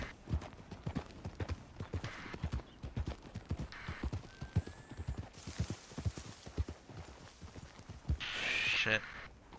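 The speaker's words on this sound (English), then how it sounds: "What is this horse doing?" Hooves clip-clop in a fairly even walking rhythm from a horse in the Red Dead Redemption 2 video game, close and clear with no talk, ending in a louder burst that sounds like a brief whinny.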